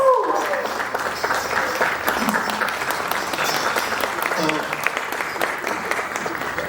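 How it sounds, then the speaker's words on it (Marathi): Audience applause welcoming Marathi actress Amruta Khanvilkar at a film event for the movie Chandramukhi, steady loud clapping from a large crowd sustained for several seconds, with a voice briefly heard at the start. "जोरदार टाळ्या त्यांच्यासाठी."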